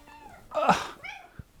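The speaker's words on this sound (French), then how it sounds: "Il y a un petit chat qui a spawn dans ma chambre." A cat meows loudly up close, a drawn-out call with a shorter, softer mew after it, followed by a couple of faint thumps.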